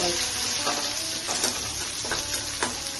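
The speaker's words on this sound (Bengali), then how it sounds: "এভাবে মশলাটা কষানো হয়ে যাচ্ছে।" Tomatoes and green chillies fry in spice masala with ghee and garam masala, a steady close sizzle broken by soft stirring scrapes, no voices.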